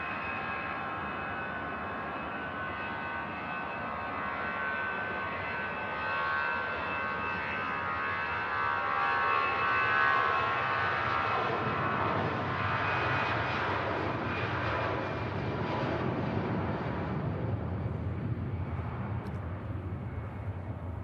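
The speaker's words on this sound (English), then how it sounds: "There we go, the Finnair heading back to Helsinki." A Finnair airliner departs Manchester Airport for Helsinki, its jet engines a steady, broad roar that swells gradually and holds at a distance throughout.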